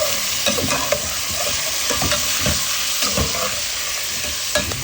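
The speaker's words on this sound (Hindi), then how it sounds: "अब डाल देंगे प्याज, अब डाला जाएगा इसके अंदर चिकन" Chicken and onions for matar chicken pulao stir-frying in a pan, a steady sizzle broken by repeated scraping stirs and clinks of the spoon, close and continuous with no talk.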